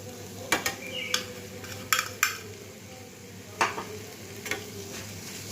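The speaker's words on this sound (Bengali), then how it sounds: "এটা আমি ভালো করে মিশিয়ে নিচ্ছি" Spoon or spatula stirring chopped coriander leaves into chhana potol dorma in a pan, giving a few sharp scrapes and taps against the metal over a low, steady sizzle, close and fairly quiet.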